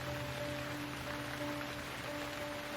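Steady Oregon rain falls during early-season trout fishing, a dense, even patter on the surface that holds at the same level throughout with no voices.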